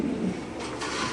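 A Lahori pigeon at a pigeon farm gives a brief, close, low coo, a single soft call lasting about a second.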